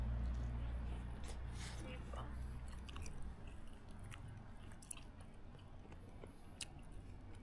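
Person chewing crunchy food close to the microphone, soft repeated crunches and bites over low background rumble, with a voice talking faintly in places.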